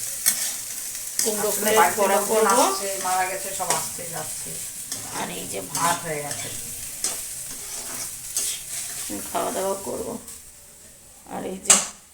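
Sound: potatoes frying in a pan

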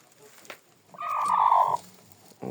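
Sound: hens clucking

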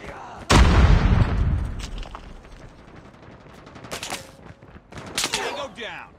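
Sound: grenade explosion and gunfire in Call of Duty Mobile video game

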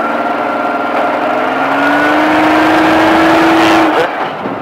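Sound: Baja off-road vehicle engine accelerating on throttle

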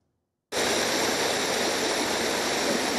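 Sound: Vărşag frozen waterfall in the Harghita Mountains

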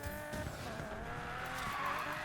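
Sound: race car skidding on gravel, Need for Speed Payback video game

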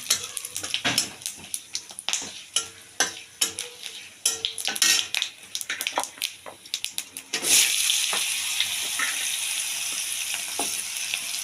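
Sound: tomato and cabbage frying in oil with spices

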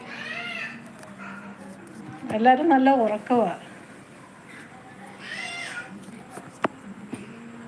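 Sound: cat meowing

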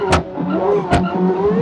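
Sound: car driving off, from a life-simulation video game

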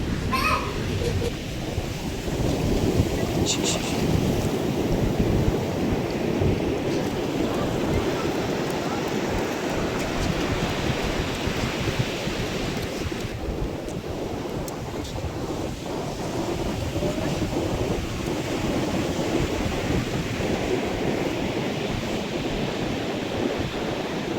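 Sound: sea waves on a beach

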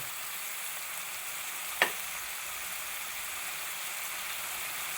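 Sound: fenugreek seeds frying in oil

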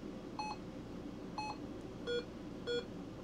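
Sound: radio keypad beeps

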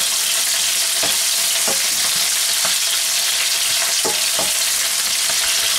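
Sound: stir-frying vegetables in a pan

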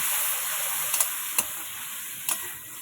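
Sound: spice paste sautéed with chicken in a pan

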